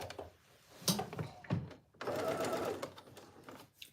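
Sewing machine basting a seam on a homemade trench-style jacket, with short bursts of stitching, a few clunks and pauses, and a longer steady whirring run near the middle, close and fairly quiet with no talk.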